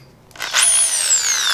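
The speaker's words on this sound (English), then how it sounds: "Alright, so for the hammer drill" A corded hammer drill starts up after a brief quiet moment and settles into a loud, steady high whine that sags slightly in pitch as it keeps running.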